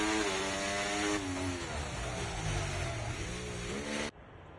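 A Mercedes Formula 1 car in a racing video game, its engine a loud, steady high-pitched whine that shifts pitch as it slows into the pit lane at the Spanish circuit, then cuts off abruptly near the end.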